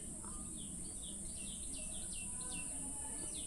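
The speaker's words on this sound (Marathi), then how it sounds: "वरती पक्ष्यांचा नुसता आवाज येतो आहे." Birds chirping and calling on a wooded hilltop near a temple above Virar, with repeated short tweets over steady insect buzz and low background hum, fairly distant and continuous.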